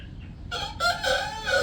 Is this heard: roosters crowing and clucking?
yes